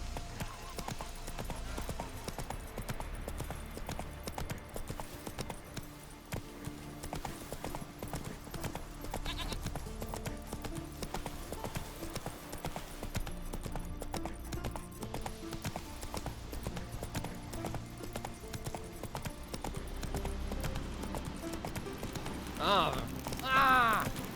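Steady clip-clop of the horse Roach's hooves galloping in The Witcher 3, a close, regular beat that runs throughout beneath other game sounds and voices.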